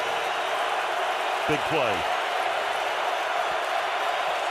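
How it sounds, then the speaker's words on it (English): Stadium crowd at a 2009 NFL game, Chicago Bears at Atlanta Falcons, keeps up a steady, dense roar on a third-and-8 defensive play, with a commentator's voice briefly heard over the noise. "Crowd rising, exhorting the defense."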